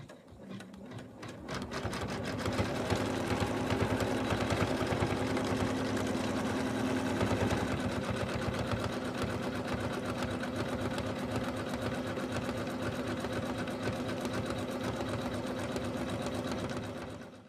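An embroidery machine stitches a satin line on an in-the-hoop snowman stocking, running a steady, fast mechanical chatter close by for the whole stretch with no talking.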